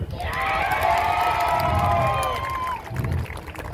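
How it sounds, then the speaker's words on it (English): A crowd at an agricultural show roars with cheers, shouts and whoops, backed by clapping, swelling and holding for a few seconds before easing off, loud and close. "everyone a huge round of applause"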